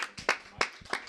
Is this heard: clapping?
yes